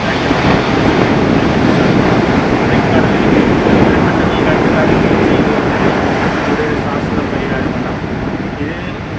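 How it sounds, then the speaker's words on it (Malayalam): Rough sea waves surge onto Kottikulam Thrikkannad beach during a kallakkadal swell surge, making a continuous loud roar of surf mixed with wind buffeting the microphone. "കടൽ കള്ളക്കടലായിട്ടാണ് ഇപ്പോൾ"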